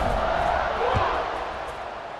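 Football stadium crowd at a bowl game kickoff, a broad, loud roar of many voices swelling then gradually easing, with a commentator talking over it.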